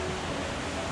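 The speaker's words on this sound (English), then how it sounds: "Good white noise from the river" Steady broadband rush of flowing river water in the Narrows at Zion, a constant close wash with no voices.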